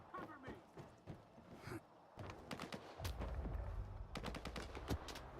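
Gunfire in the video game STALKER 2 breaks out in rapid bursts and scattered single shots. The shooting grows denser and louder toward the end, with a few thuds and sparse voice sounds mixed in.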